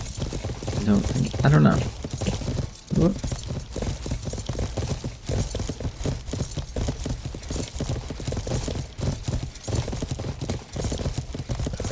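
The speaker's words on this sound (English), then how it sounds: "So much faster on horseback." Horse hooves clip-clop steadily as a mount gallops across the ground in the medieval survival game Life is Feudal, with people talking over the hoofbeats throughout.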